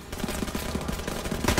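A captured enemy gun fires in the World War II video game Call of Duty WW2, giving a quick string of rhythmic shots at moderate distance followed by a louder burst at the end.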